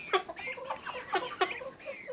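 Soft, faint clucking from a few chickens, short irregular murmuring calls close by with a quiet background.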